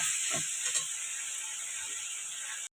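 Young drumstick (moringa) stalks stir-fried in oil in a pan give a steady, close sizzle and hiss throughout, with a few faint stirring knocks near the start.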